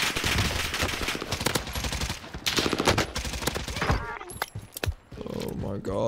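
Rapid submachine-gun fire from an AK74u in Call of Duty Vanguard Warzone on Rebirth Island, dense bursts of shots running through most of the moment under excited talk, easing into quieter game sounds near the end.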